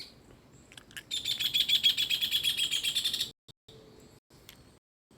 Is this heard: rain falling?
no